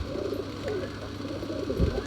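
A single male pigeon kept for sale coos softly in a short run of low, rounded calls, close by and with no talk.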